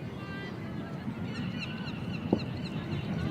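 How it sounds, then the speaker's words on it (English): Seagulls call and squabble over a cricket ground during a Pembroke versus Rush Division 3 match, their harsh, overlapping cries fairly distant above a steady outdoor background hum. "Noise of the seagulls as they argue over I don't know what."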